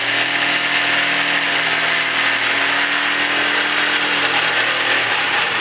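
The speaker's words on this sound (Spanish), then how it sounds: "Para esto vamos a usar esta cegueta eléctrica." An electric hacksaw cuts a square of metal stock for a homemade ninja star, a loud, steady buzzing rasp with layered motor hum that runs without a break for the whole stretch and stops abruptly at the end.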